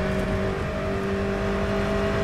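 An Aston Martin GTE race car engine in rFactor 2 roars loud and close, holding a steady high-revving drone with a meaty tone and a slight pitch shift partway through.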